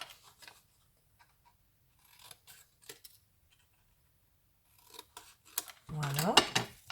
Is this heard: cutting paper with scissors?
yes